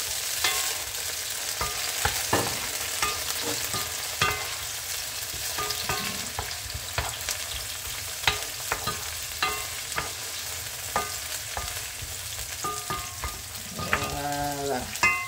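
Capitaine fish frying in a pan with tomato makes a loud, continuous sizzle, broken by frequent sharp clicks and scrapes of a utensil stirring, with no one talking.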